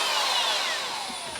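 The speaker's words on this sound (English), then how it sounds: "I'm going to get the homeowner to drill in his own cabinets." A power drill bores into wooden kitchen cabinets to fix a new Frigidaire dishwasher mount, one close, loud, high whirring burst that winds down slightly as it ends.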